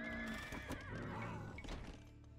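A horse gives a loud, close neigh with a faint clip-clop of hooves in the strategy game Age of Empires 2, the whinny carrying through most of the moment.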